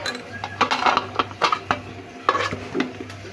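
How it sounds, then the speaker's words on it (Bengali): Leafy greens being stir-fried in a pan, with green chilli and salt added, give off rapid scraping and clattering stirring strokes against a soft sizzle, close and fairly loud, with brief pauses between bursts. "এখন আমি শাক ভাজি বসিয়ে দেবো।"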